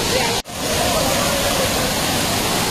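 Mangampeta waterfall in Kurnool roars as a steady, dense rush of falling water, loud and close throughout with a brief dip near the start, where people come to bathe.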